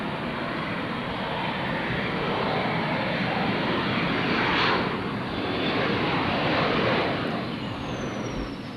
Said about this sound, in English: That Lear is one of the chase planes, and he just started his takeoff roll